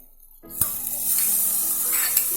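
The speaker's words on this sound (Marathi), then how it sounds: "आता मी टोमॅटो भाजून घेते" Chopped tomatoes hit hot oil in a pan for a prawn rice dish, a sudden sizzle that swells into a steady close frying hiss with faint stirring clicks.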